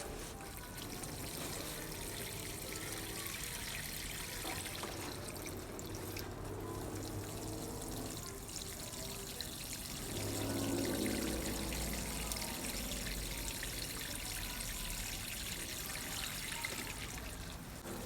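Water is poured steadily over seedlings in a small growing space to soak them, a continuous close trickling and splashing that swells briefly partway through.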